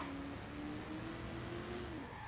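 Car driven in the video game Watch Dogs, a steady engine drone with a rising and holding pitch, close and continuous, with no talk over it.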